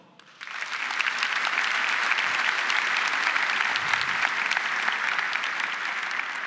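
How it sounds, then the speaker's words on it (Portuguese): A church congregation breaks into applause, a sudden start that swells into loud, continuous, dense clapping which holds steady to the end. "Aplauda."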